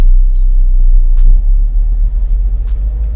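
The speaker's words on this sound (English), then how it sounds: "We're going to take our foot off of the brake and then press on the gas slowly." Manual transmission car pulling away in first gear, a steady low engine rumble inside the cabin with faint ticking and light clicks, fairly loud and continuous with no talk.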